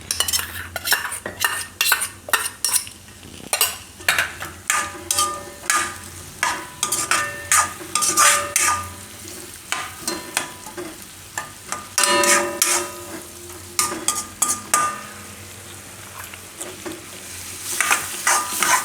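Cheese broccoli fried rice is stir-fried on a high flame, with fast, repeated metallic clanks and scrapes of a spatula against the pan over a constant close sizzle.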